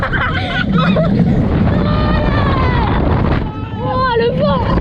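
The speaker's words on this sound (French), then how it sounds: "Oh, le vent." Wind rushes steadily and loudly past the microphone on a fast-moving Plopsaland theme park ride car, a broad roaring buffet that runs under excited voices chattering and shouting throughout.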